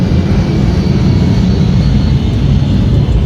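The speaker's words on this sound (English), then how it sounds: "Them airplanes flying over y'all." Airplanes flying overhead, a loud, steady low rumble of aircraft engines that fills the whole stretch without letup, and no talking over it.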